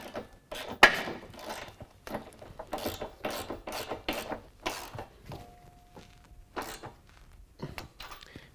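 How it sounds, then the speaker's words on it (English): Ratchet wrench tightening a 16mm bolt on a running board bracket of a 2015-19 Chevy Silverado/Sierra, heard as repeated bursts of close, crisp clicking strokes with short pauses between them. "again we're going to tighten up our 16mm bolt first"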